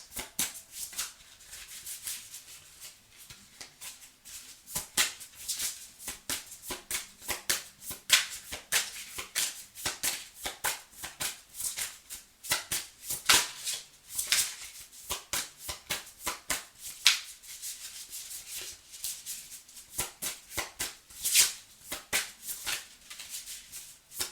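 Tarot cards shuffled by hand for a reading, a close, steady run of crisp riffling and flicking bursts that continue without pause and with no one talking.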